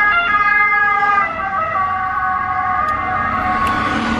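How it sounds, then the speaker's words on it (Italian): A loud ambulance siren wails steadily close by on an Italian street, its pitch sweeping as it passes, over rumbling traffic noise, with no talk. "abbiamo chiamato l'ambulanza"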